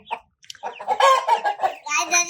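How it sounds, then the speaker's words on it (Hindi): Roosters in a backyard flock crow and cluck loudly at close range, several sharp bursts in quick succession after a brief opening squawk. "मुर्गे भी चिल्लाना शुरू हो गए।"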